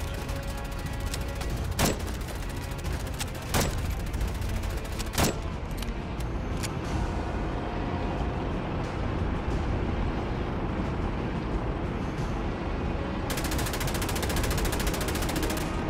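Dense, continuous gunfire in the Russia Chronicles video game, rapid bursts and single shots layered over a steady roar of battle noise throughout.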